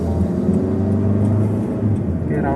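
A 15-year-old Honda Stream automatic on a test drive, its engine droning loud and steady from inside the cabin with a deep continuous hum, a faint rising whine near the end.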